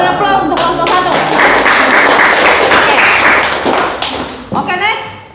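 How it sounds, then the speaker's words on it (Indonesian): A class applauds a student group after its presentation. The dense clapping swells for a few seconds and then fades, with voices heard just before and after. "beri aplaus untuk kelompok 1"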